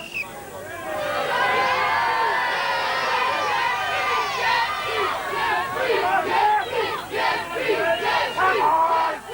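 Spectators cheer and shout loudly and continuously for Geoff Capes as he hoists heavy weights up a mast in a 1984 strongman competition, a dense roar of voices rising into excited bursts toward the end.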